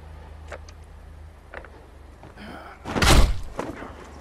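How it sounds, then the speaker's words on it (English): Door in The Wolf Among Us: a few soft clicks and handling knocks, then a loud, close, heavy slam with a booming thud that fades quickly. "I'm gonna open the door."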